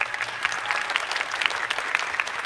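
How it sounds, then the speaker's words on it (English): Audience at a high school band winter concert in Kingsport, Tennessee, gives steady, dense applause from many hands, moderately loud and unbroken throughout. "Again, let's give Miss McClendon a round of applause"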